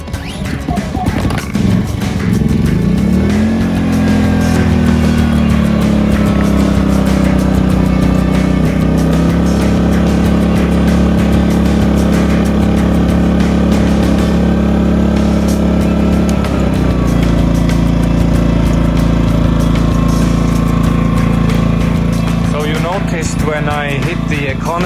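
A portable camping generator engine starts and runs with a loud, steady droning hum close by, its pitch shifting slightly as it settles, while a person talks over it.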